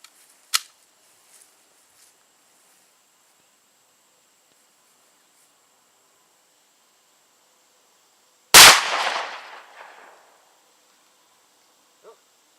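Hi-Point C-9 pistol firing: a faint sharp report near the start, then a single loud close shot at about 8.5 seconds with a ringing, decaying tail, and a small click near the end amid quiet.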